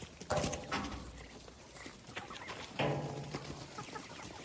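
Hens clucking in a few short bursts close by, with scattered farmyard noise between the calls.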